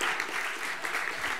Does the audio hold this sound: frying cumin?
no